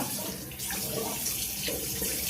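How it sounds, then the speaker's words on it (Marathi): Running tap water splashes steadily into a bathroom sink while someone washes their face, a continuous close watery rush with no talking. "मी छान चेहरा धुवून घेतलाय."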